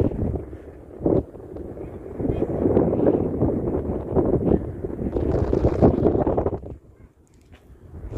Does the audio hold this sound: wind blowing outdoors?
yes